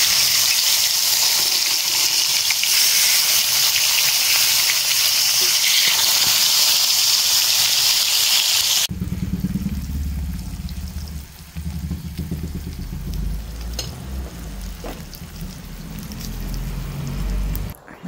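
Dried fish (tuyo or bulad) dropped into hot oil in a pan with garlic, ginger, tomato and onion, a loud bright sizzle that abruptly drops to a softer, lower bubbling fry for the rest.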